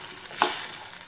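Garlic fries in a pan for Tamil puli kulambu, a tamarind curry, giving a steady close sizzle with one short louder hiss partway through and no talking.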